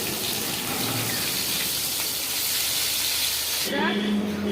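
Katla fish scales fry in hot oil in a kadai with a loud, steady, broad sizzle, which cuts off near the end and leaves a low hum.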